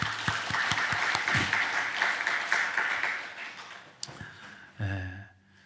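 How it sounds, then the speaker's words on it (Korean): A church congregation at a Sunday afternoon worship service claps in a steady burst of applause that fades after a few seconds, followed by a few brief voices and a murmur near the end. "하나님께 영광의 박수를."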